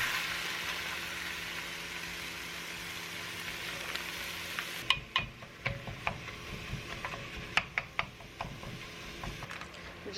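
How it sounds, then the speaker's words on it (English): A pound of ground beef frying in a pan: a soft sizzle for the first half, then scattered sharp taps and scrapes from a stirring utensil against the pan, all fairly quiet. "I'm just going to cook this ground beef until it's fully cooked through"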